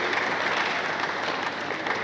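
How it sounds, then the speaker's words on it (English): Attendees at a state budget stakeholders forum in Enugu give a steady, even round of applause, moderately loud and unbroken throughout. "Please, a round of applause."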